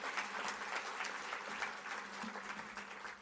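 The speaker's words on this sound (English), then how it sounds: "please give a big round of applause" An audience at the EURORDIS Black Pearl Awards ceremony claps steadily, a dense, even patter of many hands that sounds somewhat distant and soft throughout.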